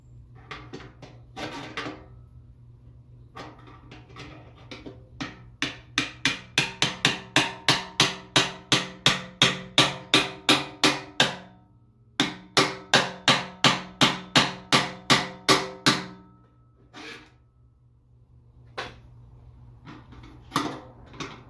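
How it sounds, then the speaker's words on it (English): Repeated sharp hammer taps on a metal fuel tank part, tapping a sending unit into place on a 1987 Chevy S10, a long steady series of strikes, then a pause and another run, with a few scattered knocks at the start and end. "we're going to take our hammer and we're just going to tap it back under there again"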